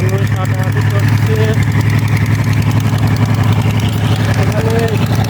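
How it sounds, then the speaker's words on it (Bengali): A trawler boat's engine chugs loudly on a river at evening, a strong low throbbing drone running without pause, with voices of people talking nearby partly lost beneath it. "এখানে ট্রলারের শব্দটা একটু বেশি, কথা বোঝা যাচ্ছে না"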